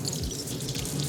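Water runs steadily from a public fountain in Horta, Barcelona, a continuous close splashing wash with no pauses.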